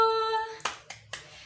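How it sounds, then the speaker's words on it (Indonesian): Three sharp, separate hand claps ring out during an online worship service, coming just after a sustained sung or played note fades. They are close and fairly loud, with short pauses between them. "Berikan tepuk tangan buat Tuhan Yesus."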